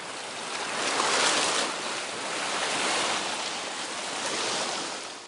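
Ocean waves wash around Munseom, an uninhabited rocky island just off Jeju, a broad steady rush of surf swelling and easing with gusty wind mixed in, no voices.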